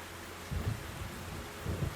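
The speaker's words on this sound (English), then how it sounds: "Rain, rain, go away." Rain falls steadily in the Black Mirror III video game while two deep rumbles of thunder roll in, one after the other, low and close beneath the constant patter.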